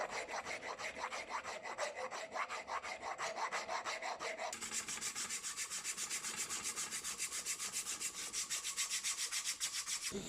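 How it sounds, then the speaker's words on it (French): A hand rasp shapes a wooden hammer handle in steady, rapid back-and-forth strokes. The gritty rasping is continuous and close, shifts to a brighter, harsher scrape partway through, and plays with no voices. "et j'affine les formes à la râpe"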